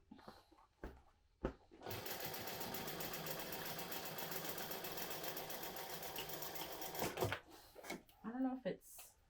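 A sewing machine runs steadily for about five seconds stitching a seam through a Trailblazer bag with heavy Decovil interfacing, with a few clicks and a soft voice before and after the run.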